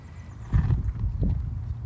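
A horse during a riding lesson, with a couple of soft hoof thuds and low snorting movement near the microphone, short and muffled against quiet background.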